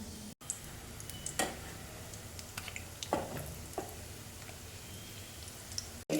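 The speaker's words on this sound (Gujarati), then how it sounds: "આપણે વડાને પલટાવી અને સરસ બ્રાઉન કલર થાય ત્યાં સુધી આપણે એને તળી લઈશું" Mumbai-style vada, potato fritters for vada pav, deep-frying in hot oil over a medium flame, giving a soft, steady sizzle with a few faint clicks and stirring taps throughout, no voices.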